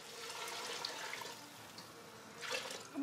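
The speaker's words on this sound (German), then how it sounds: "Man bedeckt es vollständig mit Wasser," Water pours steadily into a cooking pot over rice being cooked with clarified butter and vegetable oil, a continuous splashing rush that swells briefly near the end, with no talk.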